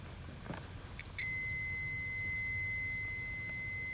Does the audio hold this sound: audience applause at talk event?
no